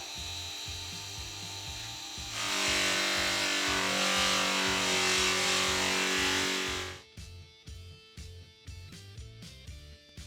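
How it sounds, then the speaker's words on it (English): A bench buffing wheel cleans up a tempered steel Starrett-style tap wrench, a loud steady grinding rush lasting several seconds, framed by the motor's humming drone and a few knocks before and after. "I'll give it a quick lick on the buffer to clean it up"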